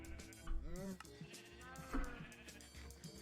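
Two short bleats from a sheep in modded Minecraft, slightly synthetic, sounding over a faint background hum with brief pauses between.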